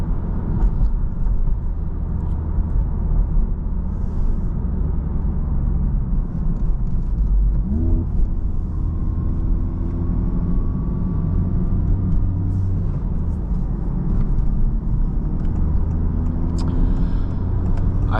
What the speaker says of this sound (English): Let's let this car warm up before we get on the gas at all.